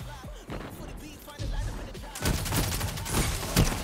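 Rapid gunfire in a video game shooter, a dense spray of shots growing louder and more continuous in the second half, with faint background voices beneath.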